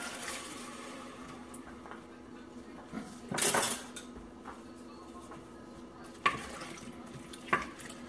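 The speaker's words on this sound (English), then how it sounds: "I'm going to go ahead and add my mangoes and my vinegar" Mangoes and vinegar go into a cooking pot in a home kitchen, bringing a clattering rush of metal utensil and pot contact followed by a few sharper clinks against a low background hum.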